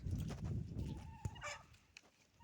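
A rooster calls amid farmyard noise with chickens and a turkey, with a brief sharp cluck cutting through the low rumble, fairly close by.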